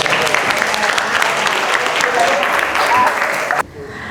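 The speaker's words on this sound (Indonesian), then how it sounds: "Give applause." A classroom group bursts into steady, dense applause that fills the space, continuing for several seconds before cutting off abruptly near the end.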